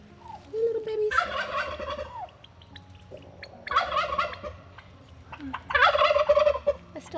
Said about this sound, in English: I still have a couple hens in here.